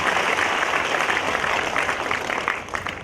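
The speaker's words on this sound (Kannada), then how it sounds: "ಒಂದು ಜೋರಾಗಿ ಚಪ್ಪಾಳೆಯನ್ನು ತಟ್ಟು ಅಭಿನಂದಿಸಬೇಕು" An audience at a spiritual discourse at Suvarnagiri Viraktha Math in Nadichagi breaks into sustained, dense applause, a steady wash of many hands clapping that tapers slightly toward the end.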